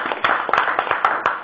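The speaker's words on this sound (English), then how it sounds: "A round of applause for raising a lot of money." Scattered applause from a small group in a meeting room, a handful of uneven claps over about a second and a half, close and moderately loud with no talk.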